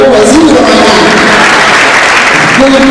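An audience at a Kenyan university event at Mt. Kenya University breaks into loud, steady applause. Dense clapping continues for the whole stretch, close and full, with faint voices mixed in.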